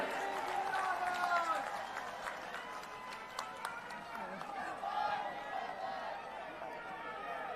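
Audience applause at a political rally in Jagdalpur, Chhattisgarh, a sustained wash of distant crowd clapping mixed with chatter and an amplified voice over loudspeakers.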